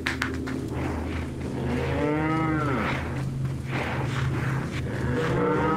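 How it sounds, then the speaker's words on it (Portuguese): A cow lets out a long, loud, drawn-out moo in Resident Evil 4 VR, its low bellow rising and falling over a steady background rumble. "Eu não aguento mais a vaca mugindo."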